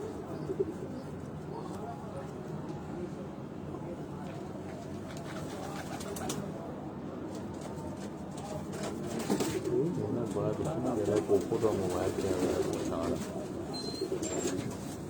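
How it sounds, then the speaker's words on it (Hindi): Red Pari breed pigeons coo softly and repeatedly amid a low murmur of background noise and faint voices, with the cooing growing a little louder later on. "ये लाल परी ब्रीड का ये कबूतर"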